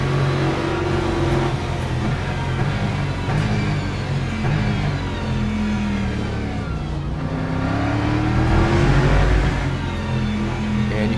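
Race cars roar past in the 6 Hours of Imola in Le Mans Ultimate, including a BMW and a Mustang, with loud sustained engine drone, rising and falling pitch sweeps, and overlapping passes throughout.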